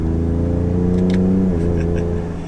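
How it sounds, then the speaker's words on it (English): A 2019 Ford F-150 Raptor's engine rises briefly in a sharp rev as a paddle shifter drops one gear, the steady drone blipping up then settling, loud and close from inside the cab. "We'll just downshift once."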